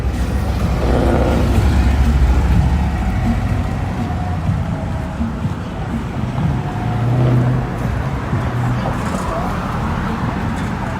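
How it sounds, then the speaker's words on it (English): A BMW car drives along a busy city street at night, its engine and tyre noise rising and fading over constant traffic rumble, with people talking nearby. "That BMW is fartastic."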